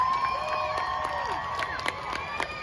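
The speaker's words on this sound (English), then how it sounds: "Let's hear a huge round of applause for these brave heroes" A crowd cheers and applauds for brain cancer survivors at a North Philly drumline march, a steady dense roar of voices and whoops with scattered sharp claps throughout.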